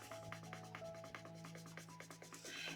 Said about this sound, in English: And then I'm just going to use a craft stick to rub it over.